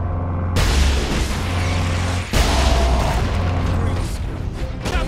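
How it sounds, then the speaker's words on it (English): Rocket launcher explosions in the video game Warhammer 40,000 Space Marine, two heavy booming blasts followed by sustained rumbling battle noise, loud and dense. "Rocket launchers on the high ground."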